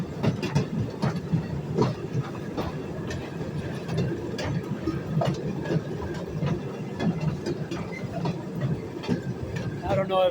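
Maryland & Pennsylvania Railroad motor car rolling along the rails, a rumbling engine with repeated rhythmic clicks from the track joints, heard from on board, with voices talking over it.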